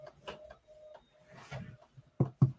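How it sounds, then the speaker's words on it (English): A printer whirs and clicks in short mechanical pulses, with a steady tone between strokes and two sharp thuds near the end, quiet and close. "So that's going to print."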